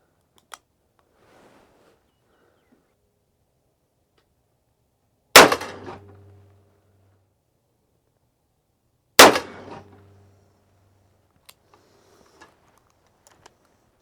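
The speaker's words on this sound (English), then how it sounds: "Well, did I fire 5 shots or 6? Obviously, that's 5." A .44 Magnum revolver fires 240-grain Corbon Hunter rounds, two sharp, very loud shots several seconds apart with brief ringing decays, and quiet handling clicks between them.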